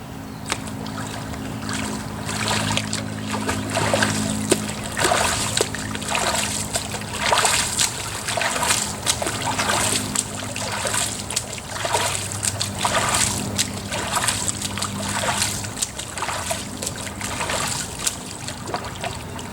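Hands entering the water of a swimming pool during a swim, heard as a steady run of close, rhythmic splashes and sloshing over constant water noise.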